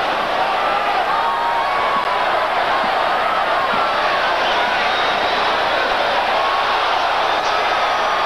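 A boxing arena crowd roars and murmurs continuously at a steady, dense level, its attention drawn to a scuffle breaking out somewhere in the bleachers during the Roy Jones Jr vs Mike McCallum bout.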